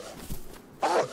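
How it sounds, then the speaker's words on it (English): A dog gives a couple of short, close barks, moderately loud with a brief pause between them. "Oh, what's the matter with the dog?"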